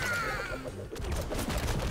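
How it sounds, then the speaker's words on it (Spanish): Gunfire from the PC game AK-xolotl, a dense, loud barrage of shots layered over game music and effects, continuous through the short stretch with no voices. "Esos disparos malísimos, por Dios."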